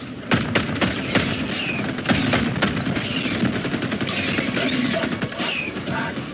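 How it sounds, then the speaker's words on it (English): Shotgun blasts in a video game, several sharp reports in quick succession at the start, followed by a dense, continuous crackle of gunfire and game noise through the rest. "I love that shotgun"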